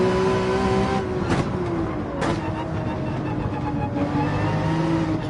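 Race car engine in a racing video game pulling away from a standing start, a sustained rising whine that dips and climbs as the throttle is fed in gently, with brief sharp bursts around the first and second seconds.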